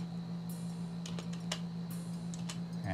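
Computer keyboard keys are tapped in short clusters during a Windows 10 Pro setup, light close clicks over a steady low electrical hum.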